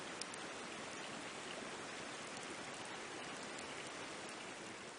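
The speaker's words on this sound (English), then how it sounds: "I got a stream going by." A stream flows past a lakeside campsite on a multi-day hike, giving a steady, dense rushing hiss of water that stays even and close throughout, with no voices.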